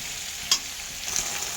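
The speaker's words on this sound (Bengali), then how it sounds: "এখন এই মশলাটা দিয়ে আলুটাকে ভালো মতো কষিয়ে নেবো।" Potatoes fry with spices in oil, giving a soft continuous sizzle with a sharp stir or scrape near the start and a few faint spatters later.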